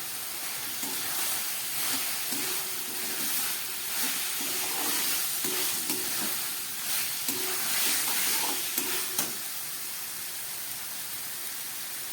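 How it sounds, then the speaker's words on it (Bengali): Fried potatoes stirred into a well-cooked spice masala for a Bengali snail curry give off a steady close sizzle, with rhythmic scraping strokes of a spatula repeating through the first part before the frying hiss continues alone. "এবারে এর মধ্যে দিয়ে দিচ্ছি আমি ভেজে রাখা এই আলুটা"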